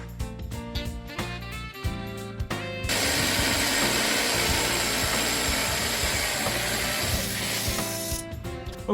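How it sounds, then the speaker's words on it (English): A power drill whines loudly and continuously for several seconds, drilling holes in a bowl, with background music before and after. "That's how I'm drilling the holes."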